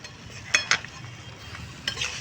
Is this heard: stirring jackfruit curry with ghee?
yes